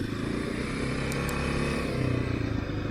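Kawasaki KLX dirt bike running steadily after an idle adjustment, a close, continuous engine drone with slight rumble and clatter as it rides off through tall grass.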